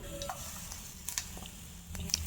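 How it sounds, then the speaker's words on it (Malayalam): Mustard seeds splutter in hot oil in a pan for a raw mango pachadi tempering, giving sparse, faint pops and crackles over a soft background sizzle. "ഒരു പാൻ വെച്ച് അതിലേക്ക് അല്പം എണ്ണ ഒഴിച്ചതിന് ശേഷം കടുക് ഇട്ട് കൊടുക്കുക. കടുക് പൊട്ടി വരുന്ന സമയത്ത്"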